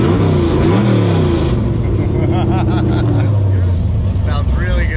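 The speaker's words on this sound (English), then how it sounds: "the first time he's gonna get to hear it with the new exhaust on it" A car's engine with a new aftermarket exhaust rumbles and revs up close, deep and loud, while people talk over it outdoors.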